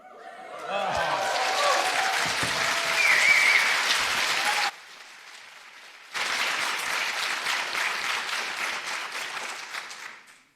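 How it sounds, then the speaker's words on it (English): A crowd of about 200 fans claps during a live call with astronaut Tim Kopra aboard the International Space Station, a loud sustained ovation that drops to a lull, then resumes and fades out. "I hope you heard the applause here as well"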